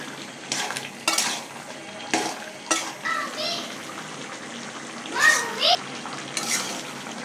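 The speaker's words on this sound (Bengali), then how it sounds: "লাউটা কষানো হয়ে গেছে" Bottle gourd with tomato is stirred and fried in a pan beside fish, with a low sizzle under repeated scraping and clinking of a spatula against the pan; a voice briefly sounds partway through.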